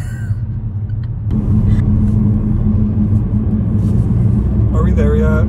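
Steady low road rumble of traffic heard from inside a moving car, a constant engine-and-tyre drone that swells slightly after the first second, with a brief voice-like sound near the end.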